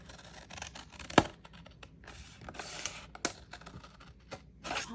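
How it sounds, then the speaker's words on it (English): Scissors cutting through a paper file folder, with crisp snipping and tearing-like crunches spread across the moment, a few sharper cuts standing out, close and moderately quiet with no talking. "And I'm just going to cut it just like this."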